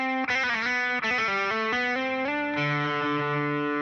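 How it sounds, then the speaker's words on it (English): Electric guitar played through distortion and effects: a slide down the neck, then a quick Dorian-mode lick, ending on a held, sustained note. Loud and solo. "There's your Dorian sound right there."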